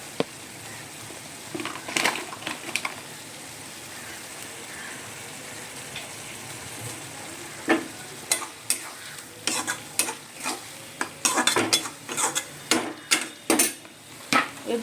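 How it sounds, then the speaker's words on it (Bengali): Mutton curry frying in a pan is stirred vigorously, a continuous sizzle punctuated by rapid, repeated scrapes and knocks of a spatula on the pan, growing busier toward the end. "এই দেখুন, নাড়ছি।"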